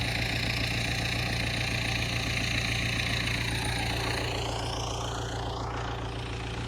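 A heavy diesel engine of an MTZ 892 tractor runs at a steady, low idle throughout, a continuous rumbling drone with no talking.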